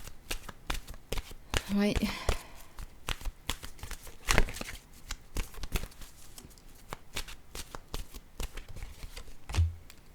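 A deck of oracle cards being shuffled, with repeated crisp riffling and flicking of the card stock in close, steady bursts, while someone speaks in French over it.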